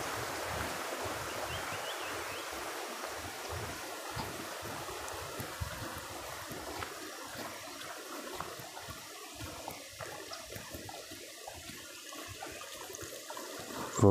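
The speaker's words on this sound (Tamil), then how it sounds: "மலையினால் நிறைய சிற்றோடைகள் உருவாகிருக்கு." Small streams formed by rain in the hills flow across a forest road in elephant country, making a continuous, fairly quiet rushing and trickling wash with no talking.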